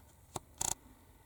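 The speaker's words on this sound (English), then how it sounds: "That's just shaking the pen." A gold ink pen is shaken to spatter ink onto a card, giving one short rattle followed by a quick burst of several close, sharp clicks.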